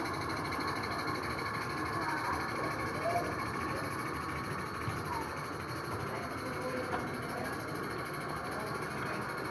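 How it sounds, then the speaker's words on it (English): A Regner Vincent model narrow gauge locomotive hauls a long train of Corus Railway goods wagons and a matching guard's van, giving a steady low rumble and hiss that carries on throughout, fairly faint, with no talk. "the Regner Vincent now with a long train of Corus Railway goods wagons and matching guard"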